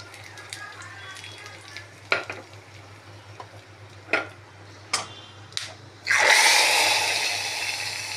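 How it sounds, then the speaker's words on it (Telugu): Mustard seeds, cumin, curry leaves and two dried chillies go into hot oil for a tomato rasam tempering. A few light taps and clinks come first, then a sudden loud, close sizzle erupts and keeps crackling to the end. "రసం తాలింపుకి ఆయిల్ వేసుకుందాము"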